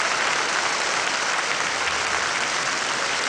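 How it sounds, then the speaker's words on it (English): An Edinburgh audience at the 1972 Eurovision Song Contest applauding and cheering, a dense, steady wash of clapping from a large hall that continues unbroken throughout. "A great cheer from this Edinburgh audience"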